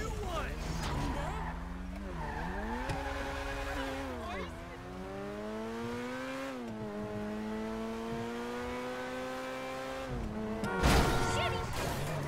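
In GTA 5, a car drives with a steady engine drone whose pitch rises and falls as it revs, ending in a sharp, loud burst of tire skidding near the end.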